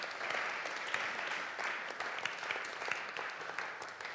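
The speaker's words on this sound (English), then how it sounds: "Let's give Tom a round of applause." Audience applause at the close of a talk at a Lent 2018 Big Questions event: steady, dense clapping from a sizeable crowd that holds even throughout, with no voices over it.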